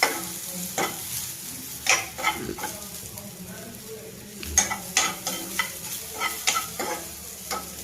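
Ingredients for a ridge gourd chutney are roasted in a pan, with a soft sizzle under repeated close scraping strokes of a spoon stirring at an uneven rhythm.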